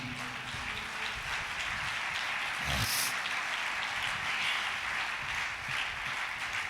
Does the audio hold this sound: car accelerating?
no